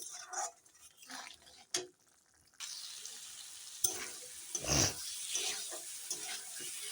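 Spices with sugar and salt sautéing in a pan for a cauliflower curry, giving an intermittent close sizzle with stirring scrapes and brief louder bursts, with no talking.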